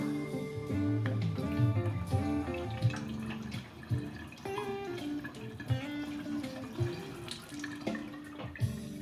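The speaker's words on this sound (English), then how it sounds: "Now we want to go ahead and empty the rest of the remaining water." Remaining water draining and splashing from a Flavia Creation C200 coffee machine during descaling, a steady trickling flow with drips running continuously, close and moderately loud.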